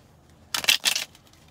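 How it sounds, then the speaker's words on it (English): Tarot cards shuffled close by in one quick riffle, a short crisp burst of flicking and snapping paper in an otherwise quiet room. "One more good shuffle."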